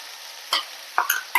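A horse gram stir-fry in a pan is stirred in a few brief scraping strokes over a quiet, steady sizzle.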